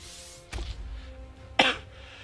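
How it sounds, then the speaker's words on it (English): Two short, sharp coughs, close and fairly loud, separated by about a second of quiet background. "Sorry about that cough again."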